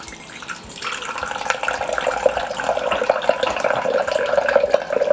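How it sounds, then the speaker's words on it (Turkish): Room-temperature water pours steadily through a thermos filter, a continuous liquid trickle that starts softly and builds into a fuller, bubbling flow, heard close and alone. "Bir de şu filtreyi kapatıp akışını beraber kontrol edeceğiz. Bakalım nasıl akıyor."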